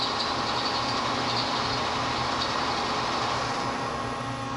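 A Bridgeport CNC mill spindle, retrofitted and run from a single-phase VFD, spins steadily with a dense, even whirring hum that holds at constant loudness throughout, close and alone without talk.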